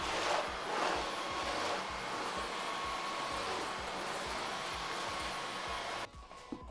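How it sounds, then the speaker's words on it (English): A Dyson stick vacuum cleaner runs over the floor with a steady, breathy whirring roar and faint rhythmic thumps, then cuts off abruptly near the end, leaving quiet room noise. "Actually, I should probably vacuum the floor first."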